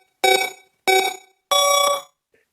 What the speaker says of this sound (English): Hit the timer.